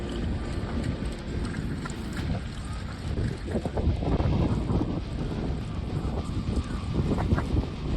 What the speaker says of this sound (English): A fierce dust storm hit Burning Man, blowing everything away and disrupting the entire event.